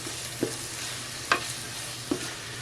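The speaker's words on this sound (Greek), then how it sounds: "Ξεκίνησε το σοτάρισμα." Chopped onions sauté in a pan with a constant soft sizzle, while a utensil stirs and scrapes three times in brief, clear strokes; nearby and quiet, with no talking.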